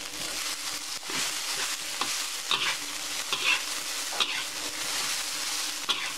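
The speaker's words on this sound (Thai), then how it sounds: "คั่วข้าวไปก่อนนะคะ" Rice stir-fried in a pan with canned fish and herbs, a steady sizzle under repeated scraping strokes of a spatula, close and continuous with no talking.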